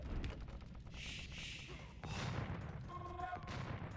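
Bombard cannons fire during an Age of Empires II 2v2 match, heard as a few booming blasts and thuds among battle noise, moderately loud beneath a commentator's voice.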